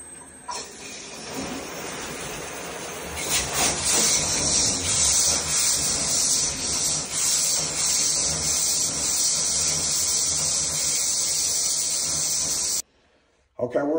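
Compressed air blasts water out of a faucet line while winterizing a vacant house, a loud, continuous hissing spray close by that runs for several seconds before cutting off abruptly.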